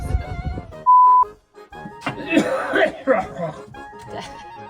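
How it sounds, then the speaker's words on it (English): A few rough coughs and throaty bursts break through close, loud voices and laughter, with a brief tonal beep early on. "I have a terrible cough"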